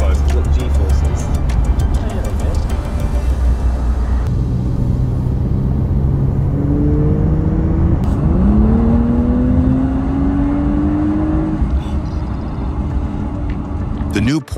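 A 2025 Porsche 911 Carrera 992.2 with a 3-liter twin-turbo flat-six launches under launch control, a loud cabin roar of the engine climbing steadily through the gears with rising pitch sweeps, while a voice talks over it.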